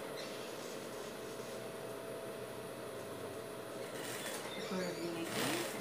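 Home sewing machine stitching fabric for a dog shirt, a steady close mechanical whirring hum that runs continuously and grows slightly busier near the end, with no talk over it.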